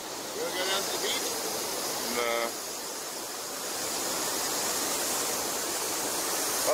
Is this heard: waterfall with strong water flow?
yes